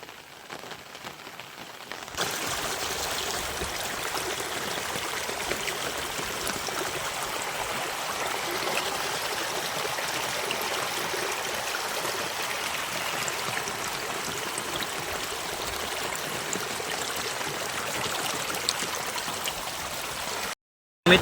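A river swollen by monsoon rain gives off a steady, dense rushing of flowing water that begins after a short quieter moment and runs on evenly before cutting off abruptly.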